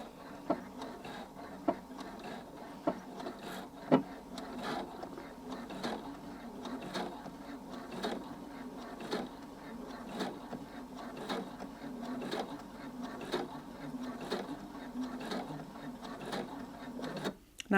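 A sewing machine stitches a bound buttonhole using a fixed stitch, producing a quiet, even mechanical whir with regular soft ticks and clicks repeating throughout, close by and unaccompanied by speech.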